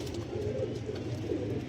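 A pigeon coos in soft, low, rolling calls, close by and steady, over a constant background hum with no voices.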